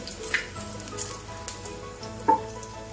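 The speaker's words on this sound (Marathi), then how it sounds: "आपली मोहरी आणि मिरची झाली आहे परतून" Mustard seeds and green chillies fry in hot oil for a South Indian potato masala, giving a steady close sizzle with a couple of brief sharp pops or crackles.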